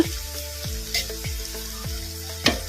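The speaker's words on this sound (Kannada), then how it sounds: "ಇದನ್ನು ಐ ಫ್ಲೇಮಲ್ಲಿ ಇಟ್ಕೊಂಡು ಒಂದು ಐದು ನಿಮಿಷ ಈ ಥರ ಫ್ರೈ ಮಾಡ್ಕೋಬೇಕು" Leftover-rice bondas fry in hot oil over high flame with a steady, close crackling sizzle, punctuated by several soft knocks and stirring sounds at regular intervals.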